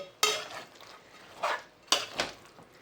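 Dry jinga (shrimp) curry with ridge gourd being mixed in a pan, a spoon scraping the metal in three or four quick, close scrapes with quiet pauses between.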